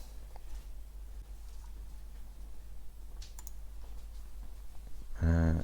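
Password being typed on a computer keyboard: soft, sparse key clicks at low level over steady background hum, ending in a louder tonal burst.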